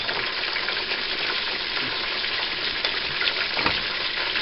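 A seasoned mixture with added pepper is stirred in a pan, a steady broadband sizzle with soft scraping strokes throughout and one sharper knock near the end, no voices.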